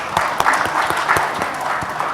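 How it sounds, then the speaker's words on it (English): Audience applause for panel speakers at the AVISOC 2022 awarding day, a steady patter of clapping from a moderate crowd, continuous and fairly loud. "give applause for all of them"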